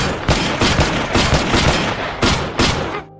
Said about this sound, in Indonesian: Mereka saling balas tembakan dan pukulan.